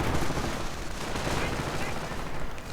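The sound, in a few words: machine gun fire in a strategy video game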